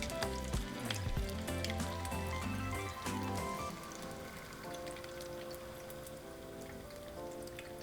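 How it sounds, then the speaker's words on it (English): Cheesy beef flautas frying in oil in a pan, giving a steady crackling sizzle with fine popping, louder for the first few seconds and then settling into a softer, even fizz. "now we're just going to fry until they get nice and golden"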